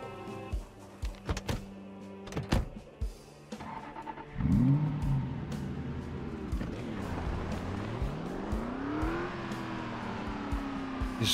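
A sports car in a zombie survival video game revs up and accelerates, its engine tone climbing and sweeping through gear changes after a few sharp knocks, moderately loud and steady with no talk over it.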